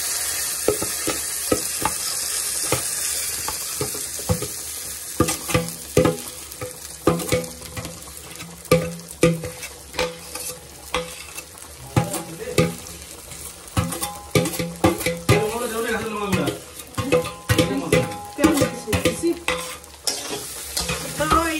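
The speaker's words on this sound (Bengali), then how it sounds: "এখন 10 মিনিটের মতো পুরো ভেজে নেব।" Rice fries in a pan with cashews and raisins, sizzling steadily while a spoon scrapes and clatters against the pan in irregular stirring strokes, close and loud, with no talking.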